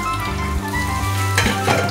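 Efo riro, a Nigerian vegetable soup, frying in a covered pot gives a steady close sizzle throughout, with a few brief clinks near the end.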